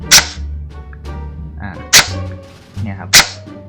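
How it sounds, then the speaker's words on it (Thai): An airsoft M4 CQB rifle with a MOSFET drop-in fires three sharp, loud snapping shots spaced about a second apart, each a crisp crack with quieter mechanical clicks and a voice talking between them. "ผมกดแล้วยิงหนึ่งนัด"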